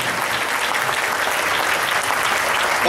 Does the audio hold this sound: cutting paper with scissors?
no